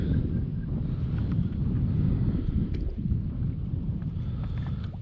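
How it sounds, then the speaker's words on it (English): Steady heavy wind buffeting the microphone, a constant low roar with rumbling gusts and no speech. "Another doggone windy day. I don't understand this wind."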